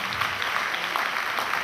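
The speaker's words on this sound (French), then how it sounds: "Applaudissez s'il vous plaît." Applause from an audience at a Malian national gathering in Mohammedia, Morocco, a steady wash of clapping held at an even level for under two seconds with no voices.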